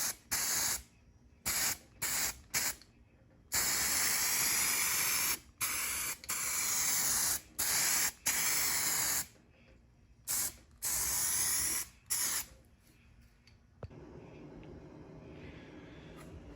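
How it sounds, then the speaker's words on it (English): A spray can lays primer onto a 1968 Ford Bronco rear tub in a series of short, sharp hissing bursts with brief pauses, followed by a longer spray, close and loud with a quieter hum at the end. "I'm gonna spray some primer in there"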